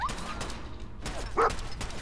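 A dog in Fallout 4 lets out a few short yips and a brief whimpering bark amid muffled game noise, fairly close, with little talk over it.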